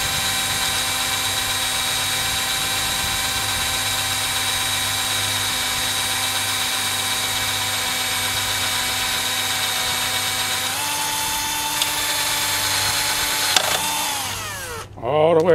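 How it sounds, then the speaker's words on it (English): A power drill runs steadily and loudly for the whole stretch, its motor pitch stepping up near the end before winding down. "I drill it a hole."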